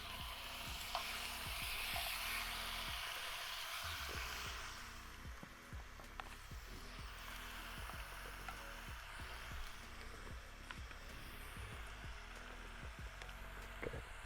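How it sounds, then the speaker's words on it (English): A stick of butter melts and sizzles in a Dutch oven pan, giving a steady soft crackling hiss with small pops throughout, fairly quiet and heard alone. "stick of butter. We're going to go into our pan here. Get this melted down."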